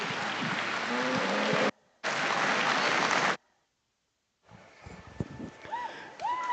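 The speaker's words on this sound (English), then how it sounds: "Let's give them all a great big round of applause" Applause from the crowd at a 4-H market beef and fed steer show in Nebraska, two dense bursts of clapping with a short break between them, followed by a quieter stretch of voices and faint arena noise.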